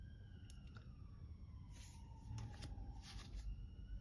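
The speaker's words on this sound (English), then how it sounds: "Excuse the sirens." Emergency vehicle sirens outdoors, a faint wailing tone sliding slowly up and down in the distance over low background rumble.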